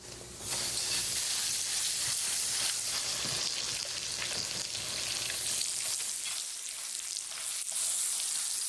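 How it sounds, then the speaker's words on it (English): Trout pan-frying in bacon grease gives a steady, close, broadband sizzle with small crackles and pops, continuous for several seconds and heard alone without talk. "Pan-fried trout and bacon grease."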